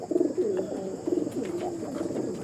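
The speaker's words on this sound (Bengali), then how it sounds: "আরেকটা কালশিরা পায়রা দেখাচ্ছি, এটা প্রচুর ওল্ড জেনারেশনের আন্ধ্রার, একদম লম্বা পায়রা, সরু পায়রা" Kalshira pigeons of an old-generation Andhra breed, long and slender birds, coo softly in repeated low warbling phrases, close by and steady for the whole stretch with no voices.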